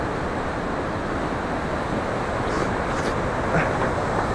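A swollen mountain stream in Darjeeling rushes past nearby in a loud, continuous broadband roar of flowing water, steady throughout.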